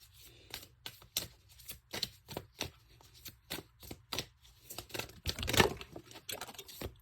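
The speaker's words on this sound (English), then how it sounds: "I am going to shuffle some of the cards" Tarot cards being shuffled by hand for a card reading, a run of quick crisp riffles and rustling slaps in an uneven rhythm, close and clear with no talking.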